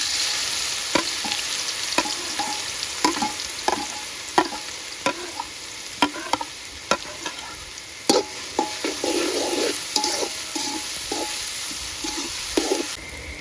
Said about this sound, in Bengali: আমাদের তেল গরম হয়ে গেছে, এখন আমরা যে বেগুনটা আছে, বেগুন আর পেঁয়াজ কুচিটা এখন আমরা রান্না করে নেব।